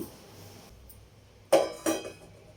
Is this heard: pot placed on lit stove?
yes